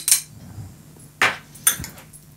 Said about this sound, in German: Einmal kurz umrühren.